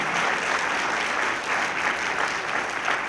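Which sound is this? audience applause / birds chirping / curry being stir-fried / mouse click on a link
audience applause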